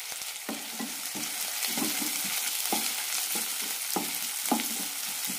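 Sliced onion and green chilli sautéing in a pan for coconut milk ghee rice, a constant close sizzle broken by regular scraping stirs about every half second, with no talking.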